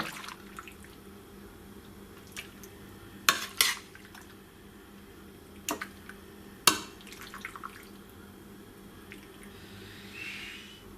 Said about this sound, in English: Now add the asparagus and just mix that through.